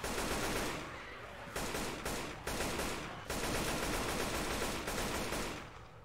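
AK rifle gunfire in Left 4 Dead 2, rapid automatic bursts firing continuously at close range, with brief gaps between strings of shots and a slight fade at the end.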